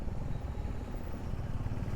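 A Honda classic-style motorcycle, an H'ness or CB350, pulls hard under acceleration on the road, its steady low exhaust drone holding close and even through the moment with no talking.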